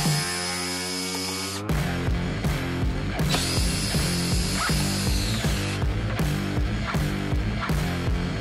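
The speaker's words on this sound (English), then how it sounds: "you can go ahead and remove the four screws that are holding the factory fog lights in" A power drill backs out the factory fog light screws on a Jeep Gladiator or Wrangler JL, starting with a steady whir, then stuttering in rapid loud bursts close by.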